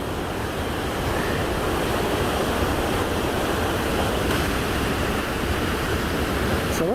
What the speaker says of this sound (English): There's the river.